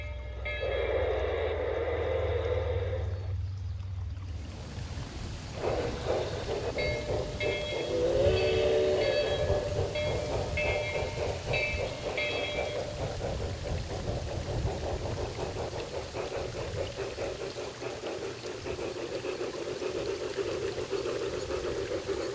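A small garden-railway model train runs along its track with a steady rolling rumble and rhythmic clicking, plus a brief metallic squeal early on.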